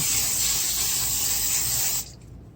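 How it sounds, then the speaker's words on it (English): A steady, loud hiss of a can of nonstick baking spray coating a baking pan for about two seconds, then cutting off abruptly into quiet. "baking nonstick spray"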